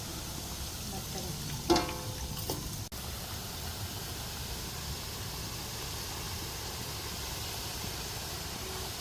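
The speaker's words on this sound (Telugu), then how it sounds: "పిండిని ఈ చిల్లులు గరిటలో వేసుకొని చేతితో అలా అనుకుంటూ బూందీ వేసుకోవాలి." Gram-flour boondi batter, pressed through a perforated ladle into hot oil for laddu, sizzles in a steady, continuous hiss that holds throughout, with a brief metallic clink near the start.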